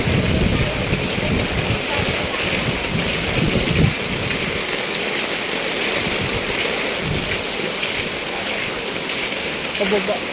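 Heavy rain pours down steadily in a dense, continuous hiss, loud and close throughout, with water running nearby and a brief human voice under it.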